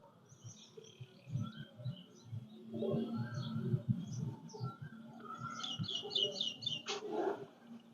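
Golden pigeons coo in low, soft murmuring pulses, with brighter chirps and a few sharp higher calls mixed in, fairly close and steady throughout.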